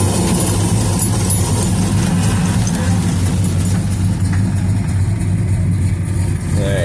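Original 383 big-block V8 in a 1968 Dodge Dart GTS with original carburetor, idling steadily with a low, loud, continuous rumble close to the engine.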